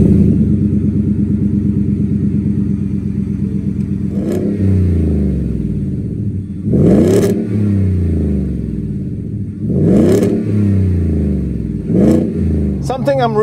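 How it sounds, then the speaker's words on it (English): A modified Ford F-150 Baja Splash pickup idles with a deep, throbbing exhaust rumble, then revs hard three times, each rev rising and falling back to a loud, close burble. "And also you get that nice rumble from the exhaust."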